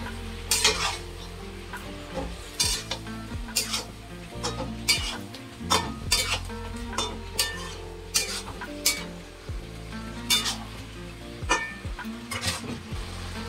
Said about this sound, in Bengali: তো মাংস কষাতে কষাতে আমি মাংস কষানোর সাথে আলুটাও দিয়ে দেবো